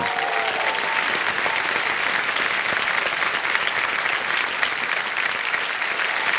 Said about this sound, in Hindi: तालियां बज जाए इनकी